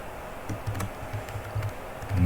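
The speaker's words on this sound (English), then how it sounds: "I'm gonna go to Google real quick. Type this in." Keys clatter on a computer keyboard as a search is typed in, a quick irregular run of soft clicks heard close up over a low background hum.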